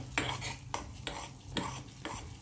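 Semolina sheera with raisins being stirred in ghee in a pan, a spoon scraping in about five regular strokes over a soft background sizzle, close and moderately loud, with no voices.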